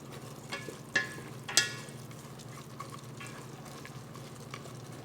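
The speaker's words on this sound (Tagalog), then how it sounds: "So palutuin na naman natin ang ating carrot konti." Carrots stir-frying in a pan for Filipino sotanghon chicken guisado, a steady soft sizzle with a couple of sharp scraping clicks from stirring, close and alone.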